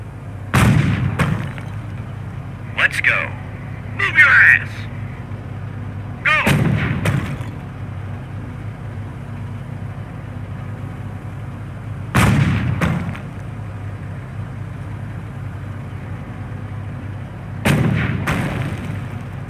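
Heavy artillery blasts from the World War II strategy game Company of Heroes boom out at irregular intervals, roughly six deep thuds with brief crackling tails, over a steady low rumble of battle ambience.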